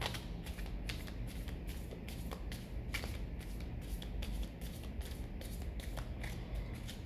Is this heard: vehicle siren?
no